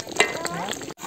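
Meat being browned and stirred in a pan for biryani at a family picnic, a short burst of sizzling and scraping with a brief clatter near the start, heard close up with faint voices behind.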